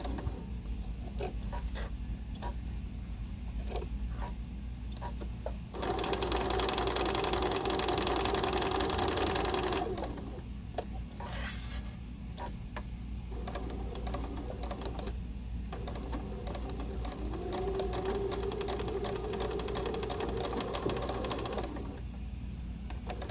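A sewing machine back-stitches around the nose piece of a 3D fabric face mask, its motor whirring in fast stitching bursts separated by short pauses, close and steady with no talking.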